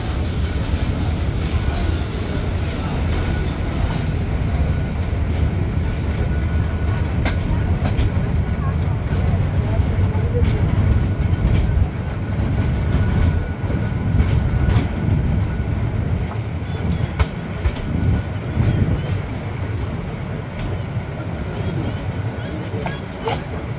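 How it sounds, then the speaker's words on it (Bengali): The Sagarika commuter train runs on the Chandpur–Chattogram line in Bangladesh, pulling away from a stop. A steady low rumble rolls beneath a rhythmic clickety-clack of wheels over rail joints, heard from on board throughout. "ট্রেনটি ছেড়ে যাচ্ছে তার আট নম্বর যাত্রাবিরতি স্টেশন মেহের"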